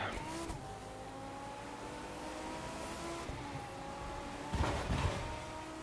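A Lamborghini Gallardo engine hums steadily in the racing game The Crew 2, with a louder revving burst near the end; no one speaks.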